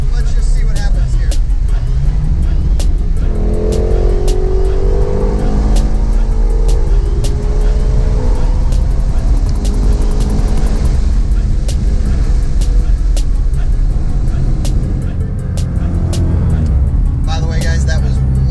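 A car's engine revs loudly and the car drives off under broadband rumble with rising and falling pitch sweeps, close and steady, while people talk over it.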